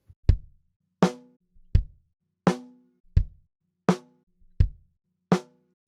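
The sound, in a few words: kick drum followed by snare drum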